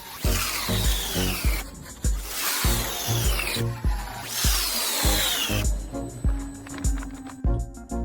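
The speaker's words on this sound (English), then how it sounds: "They put them into a high-speed industrial shredder that processes everything in a single spin." A high-speed industrial shredder processing vegetables gives off repeated loud mechanical bursts and whirring spins, with rhythmic knocks and shifting tones running continuously at close range.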